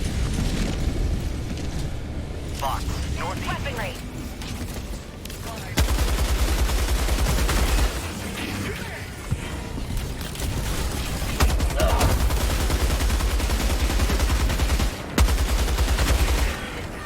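Rapid bursts from a Punisher shotgun build in the video game Helldivers 2 crack out loud and close, repeated blasts mixed with explosions and chaotic battle noise over a continuous din.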